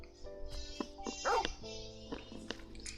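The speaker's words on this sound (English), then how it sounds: "Bark, bark." A dog in the video game Final Fantasy XVI barks in a few short, bright yips and woofs over soft game music, with a light whimper between them.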